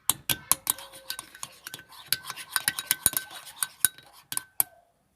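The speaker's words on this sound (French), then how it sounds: "Je vais remuer un petit peu donc avec la cuillère" A spoon stirs two eggs in a mixing bowl for a yogurt cake, giving quiet, irregular metallic clinks and taps against the bowl in quick succession, close by and with no talk.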